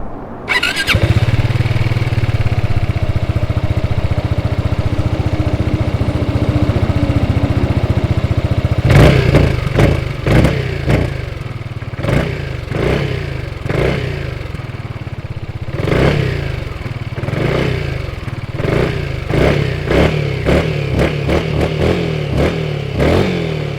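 Zontes 350E 350cc motorcycle from 2023 idling steadily at close range, then blipped through a series of sharp, loud revs in an irregular rhythm.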